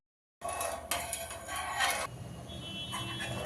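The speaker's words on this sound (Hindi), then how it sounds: "अब इसे हम चलाते हुए मीडियम टू हाई फ्लेम पे जब तक ये चीनी घुल नहीं जाती तब तक हम इसे चलाते रहेंगे" A spoon scrapes and clinks against a pan as sugar and water are stirred over medium-high flame to make saffron-cardamom syrup for carrot malpua. The metallic stirring is close and fairly loud and runs continuously without speech.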